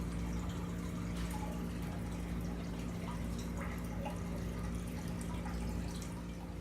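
Water runs and drips steadily into an aquarium tank during a cleaning session, a continuous splashing trickle with scattered louder drips, close and unbroken with no talking.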